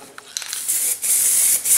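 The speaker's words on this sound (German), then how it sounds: "Sprühdose schwarz-matt einfach komplett einsprühen" A spray can of matt black paint hisses as it coats a welded metal grill stand. A few short bursts give way to a long, steady, close-up spray.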